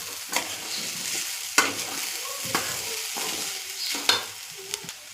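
Sweet potato pieces fry in ghee for a sweet potato and carrot sheera while being stirred, with a steady sizzle and periodic scraping and clacking of the spoon against the pan, close and clear with no talking.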